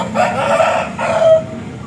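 A Thai fighting rooster crows in a long, strained call that rises and trails off, fairly close, with a second crow following.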